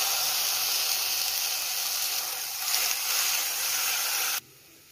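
Grated beetroot hitting hot oil with finely chopped garlic in a pan, a loud steady sizzle and hiss that holds evenly, then drops abruptly near the end.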